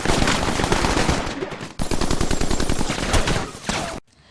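Sustained machine-gun fire rattles in a war film set on Iwo Jima, loud rapid bursts of shots overlapping in dense volleys, broken by a brief pause and ending in sudden quiet.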